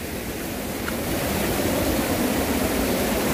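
Heavy monsoon rainwater pouring down like a waterfall near a cave dwelling in Buan, a dense, steady rushing wash that fills the whole clip close and loud, without speech.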